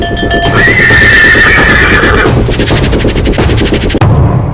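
A Marwari horse whinnies loudly and at length near the start, with sharp cracking bangs and rapid bursts around it and a steady rumble underneath throughout.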